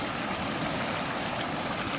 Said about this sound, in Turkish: Bak bu şelale dökülüyor.